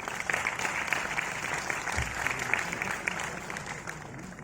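Concert audience at a tribute musical night in a Navi Mumbai theatre claps to welcome a singer onstage, a continuous crowd applause with some louder individual claps near the front, held steady throughout.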